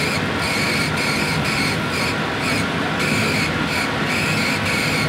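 A laser cutter's tube gives a constant, dense hiss during high frequency impact engraving, loud and close with faint regular pulsing, no voices throughout.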